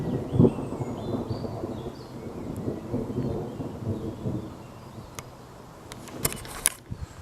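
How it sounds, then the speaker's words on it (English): Low thunder rolls and rumbles through a grey, misty thunderstorm outdoors, swelling near the start and fading away over several seconds, followed by a few faint knocks and rustles with no talking. "Listen to that thunder."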